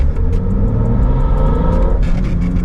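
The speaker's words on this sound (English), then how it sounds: "I'm actually really stoked that it has such a quiet exhaust because I can actually hear the induction noise" A car engine with a quiet exhaust lets its induction noise come through: a loud, close, steady rumble with a slight rise in revs near the end, no speech.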